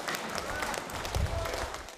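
Mine workers applaud a rescued 36-year-old miner at the Mir mine, brief scattered clapping from a small group mixed with background crowd noise and a low thump.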